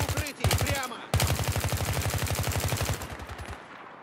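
Rapid gunfire bursts from a first-person military shooter, Battlefield 3, crackling loud and close in repeated automatic strings with brief gaps, ending in a fading tail.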